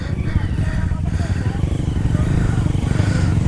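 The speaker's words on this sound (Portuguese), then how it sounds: "a 250 só acelera no descampado" A 250cc dirt bike accelerates across an open trail clearing, its engine droning loud and steady throughout, with people shouting and talking over it.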